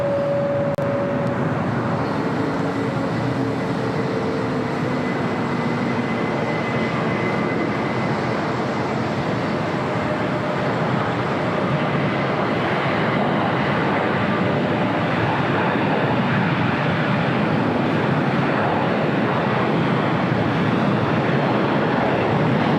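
A Boeing 757 airliner on flight 1331 to Newark roars away from LAX, a loud, steady wash of jet noise that holds its level the whole time, with no voices.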